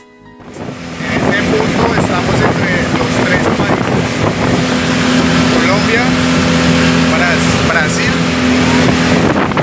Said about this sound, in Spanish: Desde aquí vamos a tomar una lancha a conocer la isla de los micos